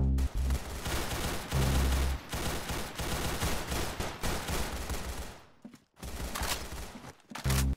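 Rapid bursts of gunfire from Roblox Arsenal, a first-person shooter game, crackle loud and dense in near-continuous volleys, with a couple of brief gaps before the firing resumes.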